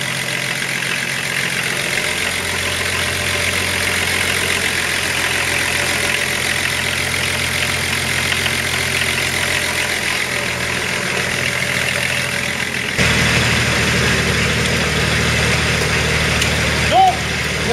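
A swapped six-cylinder car engine idles steadily and fairly loud up close, holding a constant low rumble without revving, and someone talks over it.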